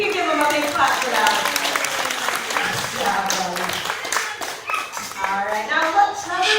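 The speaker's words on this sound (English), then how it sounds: "You can give him a big clap for that." An audience claps steadily for a parrot's trick at a bird show, with dense, continuous applause carrying across the whole stretch while children's voices chatter faintly underneath.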